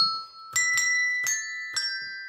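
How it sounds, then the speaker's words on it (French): Small bells strike four times at uneven intervals, each ringing clear, bright and close with a lingering shimmering tone, different pitches sounding against a quiet background. "Nous avons des petites cloches qui font des sons différents."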